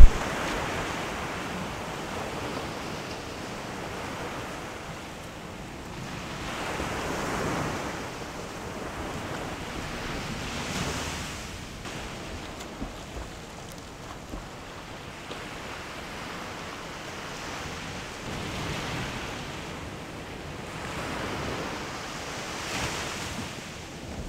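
Sea waves rolling onto the beach at Agno, Pangasinan, loud and close, swelling and breaking in slow surges every several seconds with wind buffeting the microphone and no voices.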